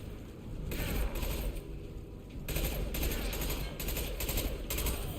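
Video game gunfire in Mass Effect 2, heard as repeated bursts of rapid shots in several rhythmic volleys over a steady low background, with no talking.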